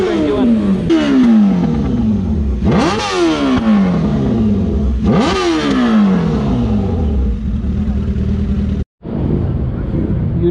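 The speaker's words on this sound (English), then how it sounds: "I filmed this motorcycle in MB Valley Run" A loud superbike at the MB Valley Run 2021 ride revs hard three times, each sharp climb falling away. A steady engine drone follows, broken by a brief cut near the end.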